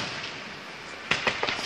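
Fourth of July fireworks burst at a distance, a few sharp cracks and pops arriving near the end after a steady hiss of crowd and outdoor noise.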